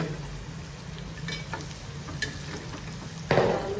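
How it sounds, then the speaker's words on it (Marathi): Okra frying crisp in a pan makes a steady, close sizzle with a few soft scrapes, and a louder burst of sizzling near the end, with no speech. "ब्राऊन कलर ओवर येईपर्यंत आपल्याला फ्राय करून घ्यायचं"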